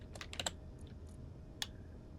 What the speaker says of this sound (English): Oh, I could just type it in.